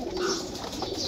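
Pigeons coo softly in a loft holding about thirty birds, a steady low murmur of overlapping calls running through the whole moment without a voice.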